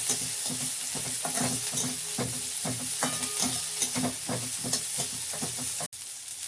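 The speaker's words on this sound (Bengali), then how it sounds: "এবার দিয়ে দেব পেঁয়াজ কুচানো," Chopped onion frying in a little mustard oil, a steady sizzle under repeated rhythmic stirring scrapes in the pan, close and fairly loud, with a brief cut near the end.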